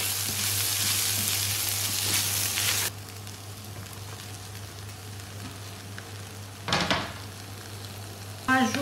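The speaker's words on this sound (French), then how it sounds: "On va rajouter du gingembre, de l'ail. On mélange bien." Ginger and garlic fry in a pan, starting with a loud bright sizzle that drops to a quieter hiss after a few seconds, interrupted by two short bursts of stirring or scraping, close up and without talking.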